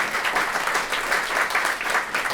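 Dense applause from a large crowd rolls on evenly throughout, many hands clapping together at a steady moderate loudness with no voices standing out.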